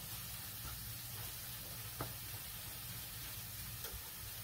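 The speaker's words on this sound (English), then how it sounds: "So I'll just brown it and then wash it off and then saute the onions and the peppers." Meat browns, or onions and peppers sauté, for a Western hash in a hot pan, giving a steady, dense sizzle throughout with a couple of faint stirring clicks.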